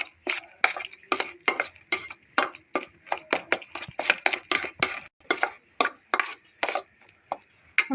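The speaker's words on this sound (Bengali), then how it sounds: "পরিমাণ মতো হলুদের গুঁড়ো, পরিমাণ মতো ঝালের গুঁড়ো, আর হালকা জিরের গুঁড়ো দেবো, দিয়ে ভালো করে মিক্সড করে নেব" Turmeric, chili and cumin powders being stirred together with salt for a vegetarian lentil-fritter vegetable curry: quick, close scraping strokes repeat steadily, roughly two per second, with no voices.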